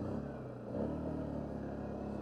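A four-wheeler quad engine idling and running steadily on a snowy ride, a low continuous rumble with a slight rise in revs partway through, close and alone.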